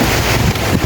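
Strong gusting wind in a rainstorm roars across a microphone, loud and close, a continuous buffeting rush with no voices.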